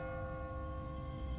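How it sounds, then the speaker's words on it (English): In The Walking Dead video game, a church bell rings in a sustained, resonant tone with layered overtones that hang evenly for the moment heard, fairly quiet with no voices. "What kind of church bell goes off at 20 past the hour?"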